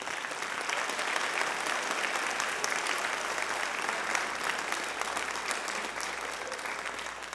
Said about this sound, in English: So we'd like to give a round of applause for them.